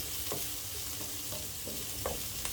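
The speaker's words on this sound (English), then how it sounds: "I'm just going to go ahead to add some garlic, okay, and some ginger, and I'm gonna fry this, okay, or saute this for about 30 seconds" Garlic and ginger sautéing in a pan for shrimp fried rice, a steady hissing sizzle with a few soft clinks and stirring scrapes, fairly quiet, no voices.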